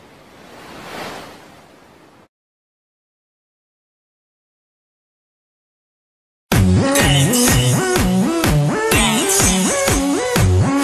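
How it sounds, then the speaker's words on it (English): Cartoon ocean surf from Pete the Cat: a single soft, hissing wave swells and fades over about two seconds, followed by silence and then loud music. "If you ask me, I'd say Pete wasn't too sure about those waves"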